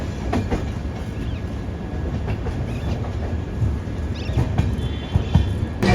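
Shri Ganganagar–Kochuveli Express running nonstop through Rajasthan, a loud steady rumble with rhythmic clickety-clack of wheels over rail joints, heard from inside the moving train.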